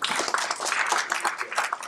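A conference audience applauds a speaker with dense, steady clapping from many hands that fills the short moment at moderate volume.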